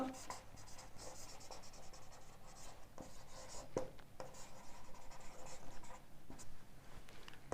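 Pen or pencil writing on paper during a Class 9 maths lesson on surface areas and volumes, a steady soft scratching that runs throughout, close by, with quiet talk in the background.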